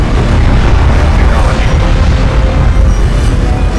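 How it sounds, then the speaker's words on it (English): Artillery fire, carrier missiles and strike craft in a real-time strategy video game battle, heard as a dense, continuous wall of loud booms and blasts with no break across the whole stretch. "got the artillery going, using my carrier missiles, my air, and also my strike craft"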